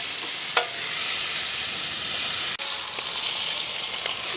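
A whole chicken fries in oil with chili powder in an outdoor village kitchen, giving a continuous, loud, even sizzle with an occasional faint click or scrape from stirring.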